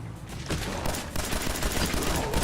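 Heavy, sustained gunfire from the Far Harbor expansion of modded Fallout 4, rapid shots piling into a dense, continuous barrage that stays loud and close throughout.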